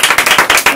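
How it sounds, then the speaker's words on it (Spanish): Applause from a small group on a Christmas children's radio programme, a short burst of sharp, close hand claps in quick uneven pulses. "esto se merece un aplauso"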